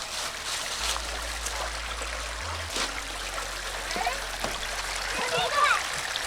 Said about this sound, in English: You find interesting things like this river, little pond here, that you kind of want to climb down and go check out